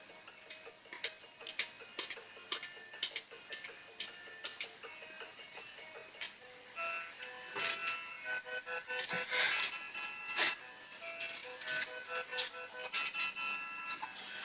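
Tinny, lo-fi electronic game music plays a busy video game rendition of a song over clicky, ticking percussion at modest volume, steady throughout.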